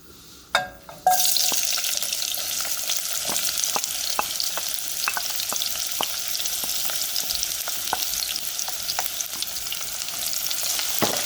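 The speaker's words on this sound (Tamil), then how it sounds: "இப்போ ஆயில் ஹீட் ஆகிடுது. நான் இப்போ ஒனியனை போட போகிறேன்." Chopped onion hits hot oil for a Tamil-style prawn curry, bursting into a loud, steady sizzle with a scatter of crackles and occasional stirring clicks, close up, with nobody speaking.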